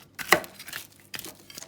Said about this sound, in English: they're gonna chop their walnuts finely